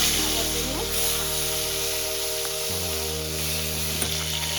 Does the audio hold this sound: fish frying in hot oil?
yes